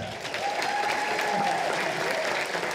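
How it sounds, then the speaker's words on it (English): An audience at a high school awards night applauds warmly, a dense, steady wash of clapping from many hands at close range, with a faint cheer carrying over it. "Let's cheer for her one more time."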